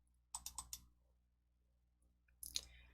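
Quick mouse clicks on a computer, a tight cluster of three or four sharp clicks near the start and another burst near the end, close and crisp against near silence, while a KAIT folder on the desktop is being opened.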